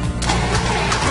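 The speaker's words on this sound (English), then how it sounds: "That engine still won't start." A car engine cranks repeatedly without catching, a steady churning drone with rhythmic mechanical pulses running the whole stretch at close range.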